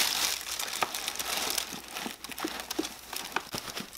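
Tissue paper crinkles and rustles steadily while a YSL Lou camera bag is unboxed, with a busy crackling texture and scattered sharper crunches, close and fairly loud, without talk.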